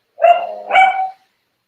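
A pet dog barks twice in quick succession, close and loud, with silence before and after.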